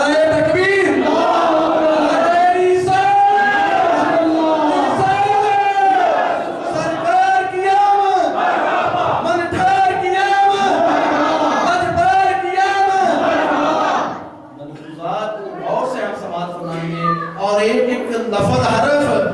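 A street procession crowd chants in loud, repeated unison responses to a Takbir slogan, several rhythmic waves of massed voices followed by a brief drop and scattered shouting.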